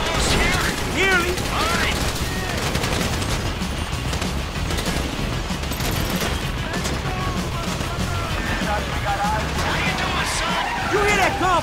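Gunfire in GTA V on Xbox One X, dense bursts of automatic shots and crashes running continuously, loud and close, with voices talking over the battle.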